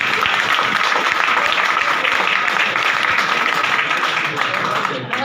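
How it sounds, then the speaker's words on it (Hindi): Loud, sustained applause from a crowd carries on steadily, with some voices mixed in beneath, then begins to thin near the end. "तो जोरदार ताली होने चाहिए।"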